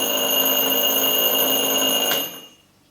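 Casio TQ-359 alarm clock ringing with a loud, steady, bell-like metallic ring that imitates a mechanical alarm, holding for about two seconds before stopping abruptly and leaving faint room tone.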